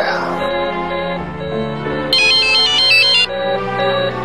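An incoming-call ringtone rings out from a telephone in a crime drama scene, a loud, steady electronic melody with a brighter burst of trilling tones midway, heard alone with no talk.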